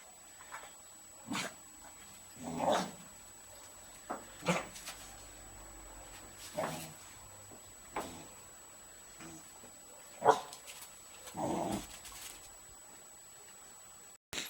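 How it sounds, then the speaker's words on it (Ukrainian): A young Staffordshire terrier gives a handful of scattered, fairly faint barks and yips spread out over time, with quiet background hiss between them. "наш Стаффорд вперше гавкнув"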